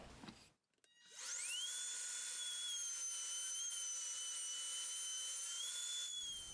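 A router with a 1/4 inch Roman Ogee bit cuts an edge on a wooden sign, spinning up with a rising whine and then holding a loud, steady high-pitched scream for about five seconds alone.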